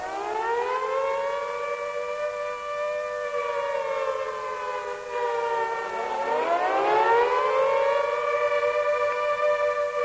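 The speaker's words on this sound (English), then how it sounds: "It is an air raid signal." A World War II air raid siren wails steadily, its rising and falling tone held loud and continuous, then swooping upward again near the end with no voices over it.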